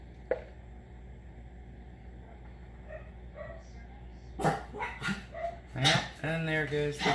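Dogs bark repeatedly in the background, getting louder and more frequent toward the end, with a few whimpers and yips mixed in.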